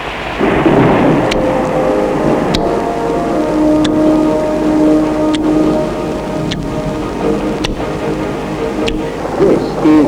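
Heavy rain pours steadily while thunder rumbles and cracks, with faint voices underneath.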